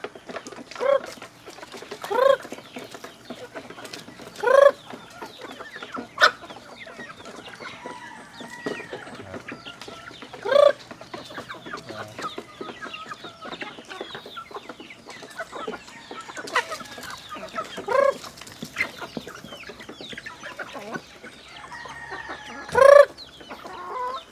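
Native chickens cluck in a backyard with repeated short, sharp calls over a constant low chatter of the flock, close by, with an occasional louder squawk.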